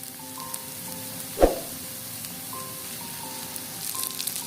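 Hilsa fish pieces dropped into hot mustard oil: one sharp splash-like hit, then a steady, close, even sizzle of frying with no voices.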